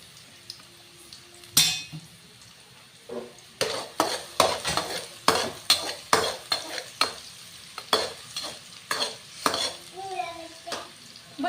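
Turmeric powder being stirred into onions frying on a low flame in a pan, with repeated scraping and stirring clinks close by over a soft sizzle; a few quiet voices are heard in the background.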